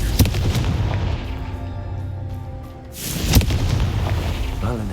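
A Confringo blasting spell exploding in the Hogwarts Legacy video game, a loud booming blast over a rumbling background, followed by a second sharp impact and a lingering roar.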